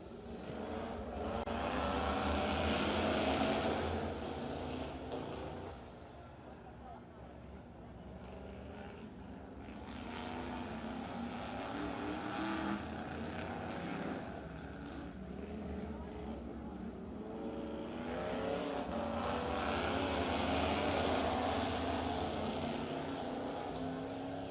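Dirt track race cars accelerating at Stockton Dirt Track during the NARC Tribute to Gary Patterson, a loud continuous engine roar that swells and fades as the field passes, with a commentator's voice faintly underneath.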